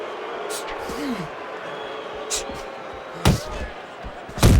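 Punches land in Fight Night Champion during an AI-simulated boxing match between Joe Louis and Tyson Fury, a few sharp thumps spaced out, the last two the loudest, over crowd noise and a commentator talking.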